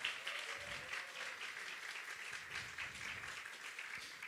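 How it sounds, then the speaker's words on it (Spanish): Audience clapping in a church congregation, a steady dense wash of many hands sustained for several seconds at moderate level without voices. "Ese aplauso para mí está muy bien."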